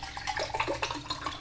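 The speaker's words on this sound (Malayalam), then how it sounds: "അപ്പോൾ ഇതാ തണുത്ത വെള്ളം ഒഴിച്ചു, കണ്ടില്ലേ." Cold water being poured into a glass of pink lime juice, a short, close trickling splash that runs steadily for just over a second.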